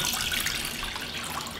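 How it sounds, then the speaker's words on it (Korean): Water pours steadily into a pot of washed barley, a continuous splashing stream that stays close and even from start to finish, with no voices. "보리쌀 50g에 물은 500을 부어요"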